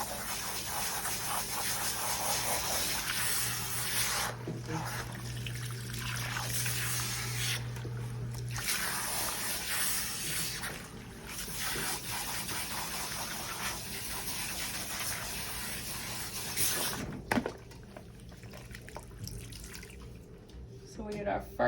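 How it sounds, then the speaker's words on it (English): Water from a salon sprayer rinsing shampoo out of hair, a steady close rush and splash that runs continuously with brief dips, mostly heard alone and loud. "I'm waiting to see that water run clean."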